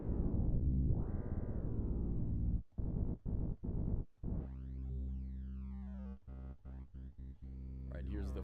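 A metallic FM synth tone played in Ableton, sweeping and chopped into stuttering on-off bursts with a gliding pitch bend, loud and dry with no voices.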